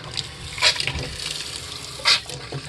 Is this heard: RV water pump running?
yes